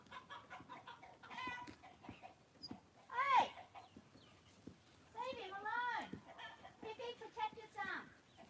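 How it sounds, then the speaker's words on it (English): A hen near ponies clucks and squawks in short rising bursts, close by, mixed with a person's voice talking intermittently. "There's another hen here."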